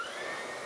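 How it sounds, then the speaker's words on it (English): A Dreame T30 cordless vacuum cleaner runs with a steady, even whir and a faint high whine, moderately loud and continuous, with no talk over it. "And if I start the vacuum, you'll see that time start to tick down."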